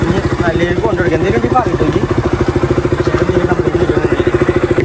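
A motorcycle engine putters close by with a rapid, even thumping pulse, steady throughout, with some faint voices and clatter mixed in.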